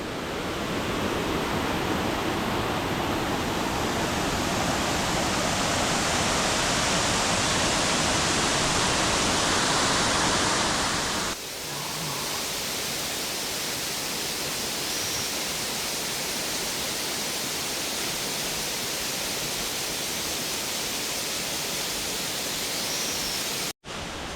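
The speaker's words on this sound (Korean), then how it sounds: "여기 폭포가 정말 장관입니다" Waterfall at a Korean scenic site, a constant roaring rush of falling water that fills the whole sound, loud and steady, dropping to a slightly softer level partway through before cutting off.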